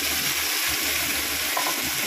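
Okra poured into hot oil with cumin seeds, giving a loud, steady, dense sizzle that fills the whole stretch without a break.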